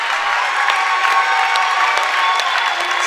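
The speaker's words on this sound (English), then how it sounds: "Everyone giving them a standing ovation." Crowd at a high school varsity boys basketball game gives a standing ovation, steady applause with some cheering spread evenly throughout, loud and continuous.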